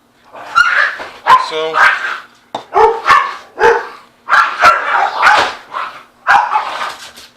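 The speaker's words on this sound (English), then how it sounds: "please forgive me, my dog just won't be quiet." A dog barks repeatedly nearby in a kitchen during cooking, sharp loud barks in bursts with some whimpering yips, while a person speaks briefly.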